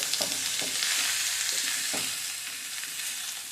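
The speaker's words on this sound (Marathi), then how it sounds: "हे पण फार शिजवायचं नाहीये, 1-2 मिनिट आपण परतून घेणार आहोत" Tomatoes and sweet red pumpkin sautéing in a pan for a hotel-style red chutney, a continuous close hiss of frying punctuated by soft stirring scrapes, with no talking.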